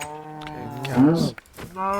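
Video game cows moo in a couple of drawn-out, close, fairly loud calls, with a short gap between them and no talk over them.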